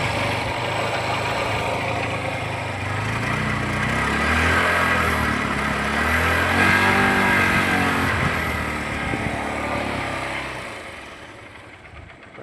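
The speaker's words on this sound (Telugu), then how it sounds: "స్టార్ట్ చేసిన ఫ్రెండ్స్, ఎంత నీట్గా ఉంది సౌండ్" A 2014 Unicorn motorcycle engine runs at a steady idle, with a smooth, even hum that swells slightly midway and then eases off, close by and alone.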